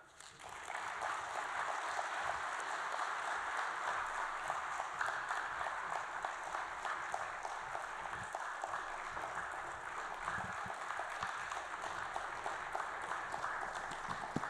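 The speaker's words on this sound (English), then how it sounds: "Please let's keep the applause going for Nigeria's Minister of Finance" Steady applause fills a large forum hall in honour of Nigeria's Minister of Finance, a continuous broadband patter of many hands held at moderate, somewhat distant level throughout without a break.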